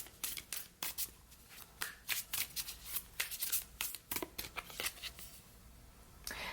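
Oracle cards being shuffled by hand, quiet close riffling and flicking in irregular bursts with short pauses.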